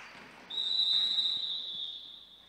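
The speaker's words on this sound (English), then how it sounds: "Whistle's blown." A referee blows a sharp, sustained whistle at a football match between Arizona and Oregon, one long shrill blast lasting about a second and a half over faint crowd noise.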